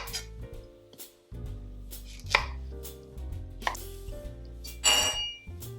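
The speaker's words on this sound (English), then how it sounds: "So I'll cut off the tips." A knife chops through ripe, black-spotted plantains, trimming off the tips in a few sharp cuts against a board, with clinks of kitchen dishes and a low hum underneath.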